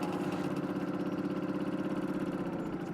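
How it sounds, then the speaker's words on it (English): A small moped engine idles steadily up close, a continuous even putter with a low rumble and no voices. "Arriving for a hot date on a moped."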